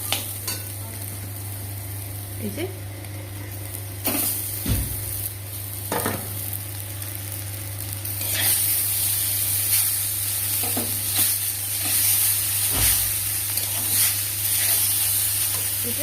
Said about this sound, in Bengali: এবার চাউমিন দিয়ে দেবো।